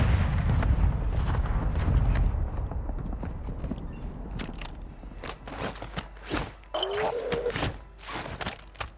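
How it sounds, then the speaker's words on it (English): Video game gunfire: a heavy rumbling burst opens, then a series of sharp, separate shots crack at irregular intervals, some near and loud, others thinner and farther off. "somebody's shooting at me"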